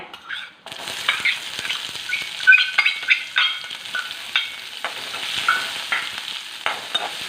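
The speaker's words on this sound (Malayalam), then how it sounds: "ഉള്ളി ചെറുതായിട്ടൊന്ന് മൂക്കട്ടെ" Onions sizzle and crackle in hot oil, with repeated stirring scrapes giving an uneven rhythm; no voices.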